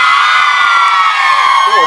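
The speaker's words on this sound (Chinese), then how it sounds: "尖叫声可以再大声一点吗？我听一下。" A concert audience at an outdoor Taiwanese-language music show in Linkou, New Taipei, screams and cheers continuously, a dense, loud wall of shrill voices and whoops with no break.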